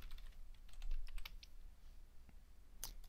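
Typing on a computer keyboard while entering login credentials, with bursts of quick close key clicks, a short pause, then a final cluster of keystrokes.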